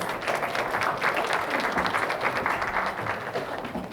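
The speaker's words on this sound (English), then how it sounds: "Okay, please welcome them with a big applause." Audience at a high school students' presentation session at a camp applauding, dense sustained clapping from many hands filling the room at steady loudness.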